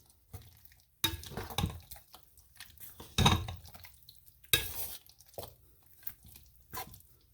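A sturdy spoon stirs thick, heavy saltfish fritter batter of flour and water in a bowl, with irregular scraping and clacking strokes alone, several louder bursts standing out against quieter stretches.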